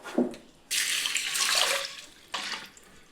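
Lentils are washed for rasam under running tap water: two separate bursts of splashing flow, the first about one and a half seconds long and the second shorter, heard close with no talk.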